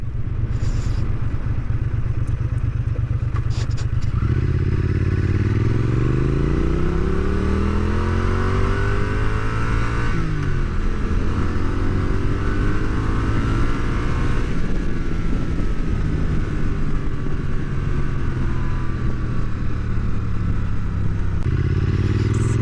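A Triumph Bonneville Speed Twin 900 motorcycle on the move, its engine note rising and falling through gear changes and throttle blips, loud and close, with steady wind rush and no talking.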